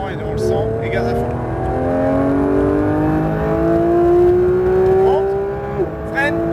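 A race car on a track accelerates hard at full throttle after a corner, its engine note climbing steadily and loudly in pitch, with a brief shift-like dip and continued revving.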